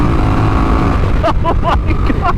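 A Honda Rebel CMX1100 cruiser in sport mode accelerates hard, its engine droning loudly and steadily while a rider exclaims over it in short bursts.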